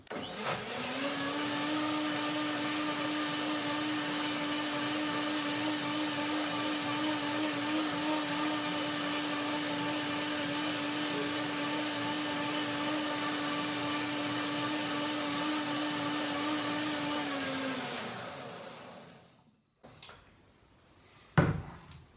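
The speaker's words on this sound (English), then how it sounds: "Blender dance number 2." A blender whirs steadily at high speed blending sesame cashew curd for a long stretch, close and loud, then winds down and stops, followed by a couple of clunks.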